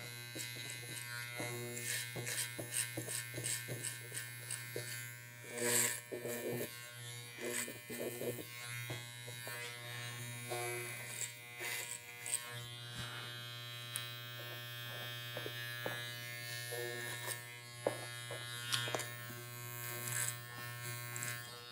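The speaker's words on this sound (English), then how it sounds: "Turning that clipper." Electric hair clipper buzzing steadily and close while cutting hair on the sides and around the sideburn area of a man's old-school pompadour, a constant hum with brief shifts as the clipper is turned, with a voice talking over it.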